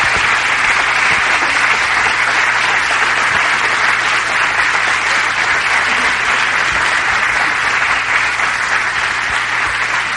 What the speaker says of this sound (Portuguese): Salva de palmas para a Neide.